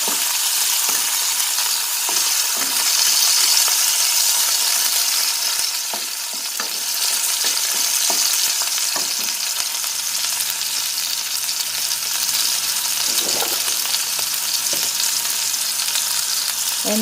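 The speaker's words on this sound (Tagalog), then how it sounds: "yung garlic, yung tawag dito, yung sibuyas, gusto ko talaga yung medyo brown" Garlic and onion fry in a pan with a continuous, dense sizzle that stays steady and close throughout, broken now and then by faint clicks of stirring and no talk.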